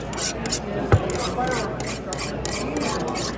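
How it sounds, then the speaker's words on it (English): Rough, rasping strokes of a knife sharpener on a soft steel pocket knife blade, a quick run of close scraping passes with one sharper knock partway through. "my sharpener bites the blade instead of just sliding off the blade"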